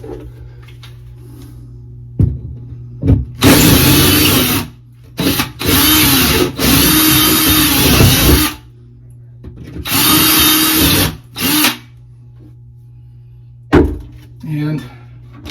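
Power drill boring a larger hole overhead for a 48-inch LED ceiling light in a kitchen pantry, sounding in several loud bursts of a few seconds each with short pauses between, against quiet room noise.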